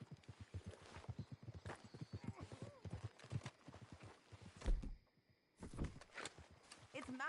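Horse hooves clopping in Red Dead Redemption 2, a steady walking rhythm of close, clear hoofbeats running under game dialogue and ambient sound, with a brief near-silent gap partway through.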